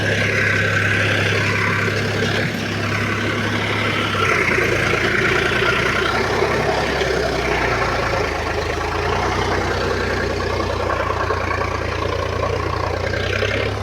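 Power tractor engine runs steadily near a rice field, a continuous loud rumbling drone with a constant low throb throughout, no talking heard.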